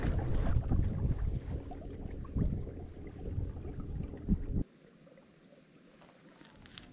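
Wind buffeting a microphone out on the water during kayak fishing: rough, gusty rumble for several seconds that suddenly drops to a faint, calm background near the end.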